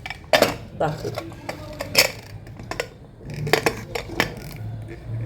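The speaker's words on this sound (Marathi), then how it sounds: "मी कुकरला झाकण लावते" A pressure cooker lid is fitted and locked into place, a series of close metallic clanks, taps and scrapes in irregular bursts, with someone talking quietly in between.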